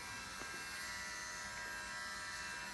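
A steady high-pitched electric buzzing drones on without a break, fairly faint, a small rotary nail grinder running against a fingernail.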